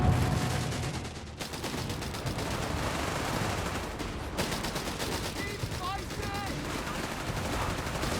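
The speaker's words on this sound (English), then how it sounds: "Automatic fire unleashed there." Automatic gunfire in the World War II strategy game Company of Heroes 3, dense sustained bursts and rattling volleys layered with battle noise, loud and continuous throughout with a brief lull near the start.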